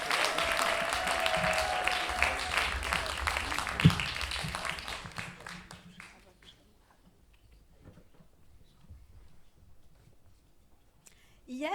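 An audience applauding at a slam poetry tournament in Lyon, a full room of dense clapping that fades out over about six seconds to near silence, with a brief burst of noise at the very end.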